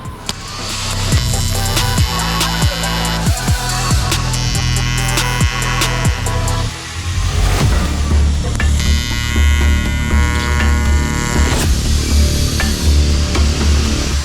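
Welding of fuel flapper valve parts for the fuel system of a manual C8 Corvette drift car produces a steady loud electrical hum and buzz with crackling sizzle, continuous throughout with a short dip midway.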